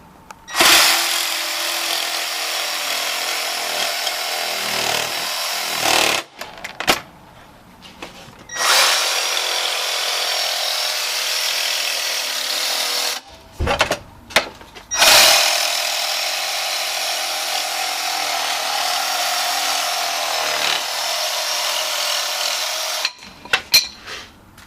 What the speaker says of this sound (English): going to cut a profile for the doorway. Jigsaw, just staying inside